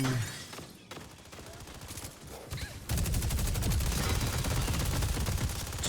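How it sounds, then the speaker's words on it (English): Rapid automatic gunfire in the hero shooter game Deadlock, a dense, loud burst of overlapping shots that becomes a continuous roaring barrage midway through, with no talking. "He's shooting at him."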